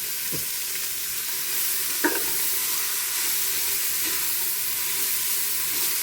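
Salted onions sautéing toward brown in a pan for chicken curry, giving a loud continuous hiss of frying with an occasional soft scrape of stirring, and no voices.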